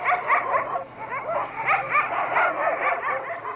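Several dogs bark, yip and whimper together in an excited, overlapping chorus that stays loud and continuous throughout, with no voices.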